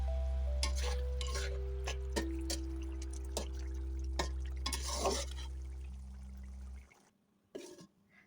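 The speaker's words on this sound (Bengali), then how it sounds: "আমি সামান্য নেড়ে চেড়ে এখানে কয়েকটা কাঁচা মরিচ দিয়ে দিব" Stirring pangas fish bori curry in a pan: soft scraping and stirring strokes over a low steady simmer, with a few sharper clinks of a spoon against the pan, fading to near quiet at the end.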